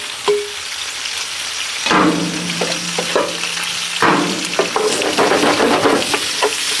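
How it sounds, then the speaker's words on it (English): Onions and fennel fry in a hot pan with a loud, continuous sizzle, broken by repeated stirring scrapes and clatters close by, and no voices. "now we're going in with our onions and our fennel, and we're going to cook that down"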